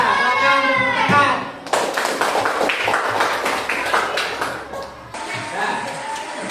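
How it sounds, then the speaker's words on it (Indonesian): Students clapping in a secondary school classroom during a team quiz, a burst of hand claps that sets in after the first second, with children's voices and classroom chatter mixed through it. "silakan tepuk tangan."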